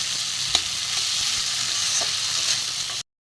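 Spice masala frying in oil for a vola fish curry, a steady close hiss of sizzling with a few soft stirring taps, lasting about three seconds before cutting to silence.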